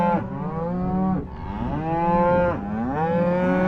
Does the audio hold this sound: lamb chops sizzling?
no